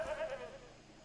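A goat in Far Cry 3 lets out a single short, wavering bleat, fairly close and clear, fading out within a second with no talk over it.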